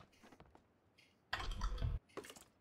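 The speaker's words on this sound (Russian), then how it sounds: "Мышкой об клавиатуру ударил." A computer mouse knocks against a keyboard during a PlayerUnknown's Battlegrounds session, giving a short, loud clattering burst between sparse, quiet key clicks.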